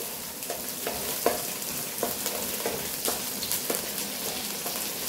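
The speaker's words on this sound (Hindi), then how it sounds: "सबसे पहले हम इसमें डालेंगे गार्लिक, जिंजर एंड चिली। थोड़ा सा इसको सौते करेंगे।" Garlic, ginger and chili sauté in a pan, giving a steady, close sizzle with sharp scrapes and knocks of stirring at irregular intervals.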